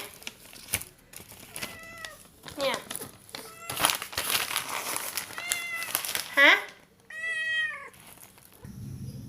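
A hungry cat waiting for fried mackerel lets out a string of repeated, insistent meows close by, separated by short gaps, with rustling and crinkling mixed in.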